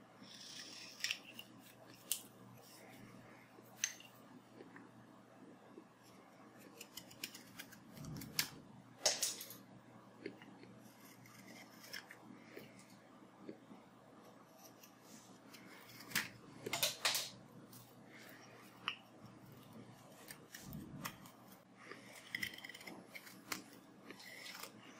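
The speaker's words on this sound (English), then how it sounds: "I'll be using mostly thumb pushes and potato peeler grips to remove all the material that I need to remove" A knife shaves and carves a wooden ferro rod handle into a totem shape using thumb pushes and peeler grips, giving faint, scattered scraping and clicking cuts at an irregular pace against a quiet background.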